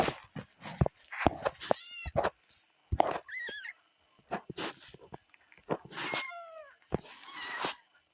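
A cartoon cat in the Toca Boca video game gives several short, high meows spread among clicks and taps from the game, with no talking.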